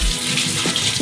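Parchment paper being soaked under a running kitchen tap, water splashing steadily and close for about a second.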